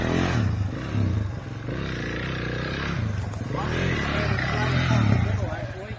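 KTM 690 motorcycle revving in bursts as it labours up a steep climb on an adventure ride, engine surging and dropping at mid distance under steady talk from onlookers.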